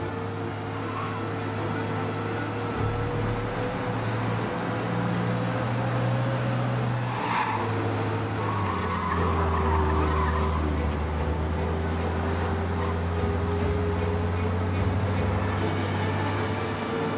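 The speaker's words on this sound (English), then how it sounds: "We lose them by driving real fast and getting clear of them." A car races away from police in the video game Mafia Definitive Edition, its engine droning steadily with rising and falling revs, a brief tire screech in the middle, all kept at a moderate, even level with no talk.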